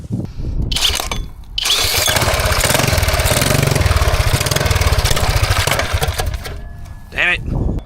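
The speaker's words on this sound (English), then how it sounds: "Gotta start it with the drill because this thing does not work." A sketchy mini bike engine with the wrong carburetor and a fuel leak is spun by a drill and catches, running loud and close with a rapid, buzzy putter before sputtering and revving again near the end.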